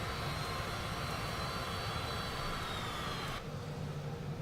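A simulated aircraft engine in Microsoft Flight Simulator 2024 drones steadily and fairly loudly while taxiing to park at Eagle Pass, Texas. The high whine drops away just before the end.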